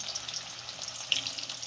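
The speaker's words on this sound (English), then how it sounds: "I'm gonna fry these for Glenn" Dasheen frying in hot oil for a Jamaican curry goat meal, a steady soft sizzle and crackle with one brief sharper pop, fairly quiet and close.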